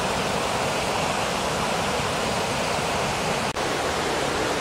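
A river flows through the jungle with a steady, loud, broad rushing wash that holds constant throughout, with no voices.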